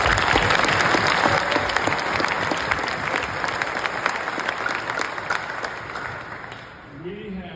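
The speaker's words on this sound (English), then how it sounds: "Let's give a round of applause" Steady round of applause from a crowd honoring a volleyball head coach, dense clapping that holds for several seconds before tapering off as a voice begins.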